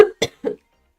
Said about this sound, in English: I'm going to be clearing my throat a lot today.